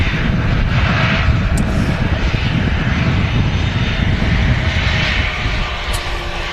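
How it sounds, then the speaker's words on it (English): A Ryanair airliner arriving from Seville roars loudly on the ground at Manchester Airport, a dense, sustained engine rumble that holds steady throughout and eases slightly toward the end. "This Ryanair just vacating in front of us is flight 4371. It's from Seville."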